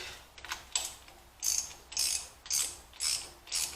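A ratchet wrench clicks in short bursts while fitting water pump and oil pan parts on a Ford 5.0 small block Windsor engine, about seven quick ratcheting strokes with brief pauses between, close and clear.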